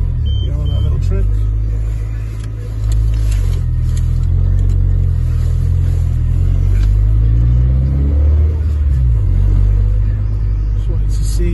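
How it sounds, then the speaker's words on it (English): A Honda EG car engine rumbles steadily up close at night, its low drone rising and falling in pitch as it revs, with voices talking over it. "I'll show you guys the car running as it were"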